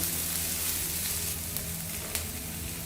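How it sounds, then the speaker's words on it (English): Onion frying in butter in a pan for a chicken curry, a steady dense sizzle with crackling throughout, close and fairly loud, no talking. "If you want to use butter, you can fry the onion in butter. Now let it get roasted well."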